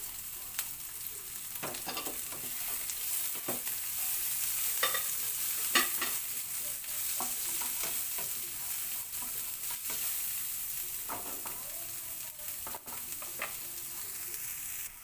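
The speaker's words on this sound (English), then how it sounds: "We have to saute our onion until it gets translucent." Onion sautéing in a hot pan for pork kare kare, a steady sizzle broken by repeated scraping stirs and clicks of a utensil, close and moderately loud.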